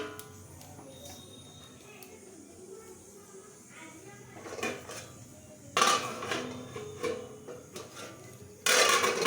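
Metal bowl set down onto a hot pan while making homemade pizza, sharp clanks and scrapes of cookware rising near the end, with someone speaking quietly between them.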